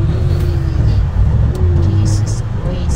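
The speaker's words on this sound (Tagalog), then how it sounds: "Grabe ang traffic." Heavy road traffic near Corby on the drive toward Northampton: a dense, steady low rumble of car engines throughout, with faint tire hiss and occasional brief higher whines, close and continuous with no clear gaps.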